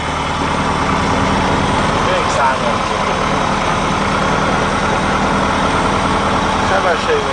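A light aircraft's engine runs steadily at a constant drone during a pre-takeoff engine check, with people talking over it throughout.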